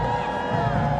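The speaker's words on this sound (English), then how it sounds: "Round of applause, come on." At London's New Year parade, a crowd cheers and whoops loudly for a Huntsville High School marching band in a brief, dense burst of shouting and applause.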